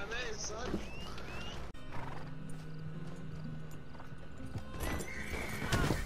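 In Red Dead Redemption 2, a black horse's hooves clip-clop close by and it gives a whinny. Someone talks over the sounds and background game noise.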